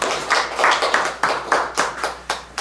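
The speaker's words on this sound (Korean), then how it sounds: "박수 한번 쳐주십시오." People at a Buddhist lecture clap their hands together in rhythm, a series of about nine sharp, evenly spaced claps, close and fairly loud.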